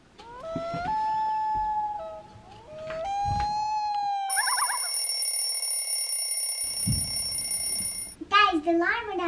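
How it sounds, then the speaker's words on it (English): An alarm clock beside a play-mat box fort blares a steady electronic tone for several seconds, loud and close, after excited, sing-song children's voices and before more voices break in. "Guys, the alarm went off."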